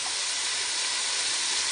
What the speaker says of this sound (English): Our water is even boiling.